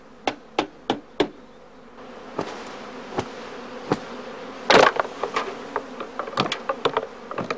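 A honeybee swarm hums in a heather skep apiary, a steady low buzz with sharp knocks and taps scattered throughout and one brief louder rush near the middle.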